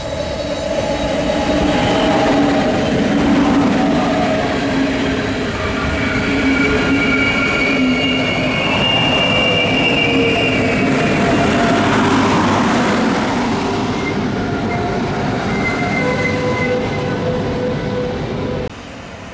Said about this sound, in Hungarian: Itt éppen az első kanyarjában érkezik lefelé, Dunaharasztiba a 37-16-os számú vonattal.